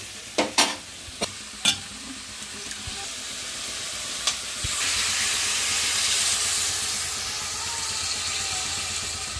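Fish curry with masala and tamarind juice stirred in a pot, opening with a few sharp clanks of a spoon, then a soft bubbling hiss that swells and holds steady.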